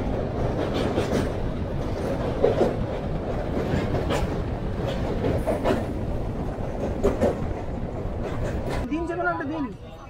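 A local train runs on the rail line between Howrah and Medinipur, a constant rumbling roar with rhythmic clacking over the rails, heard from inside a carriage, with faint voices near the end.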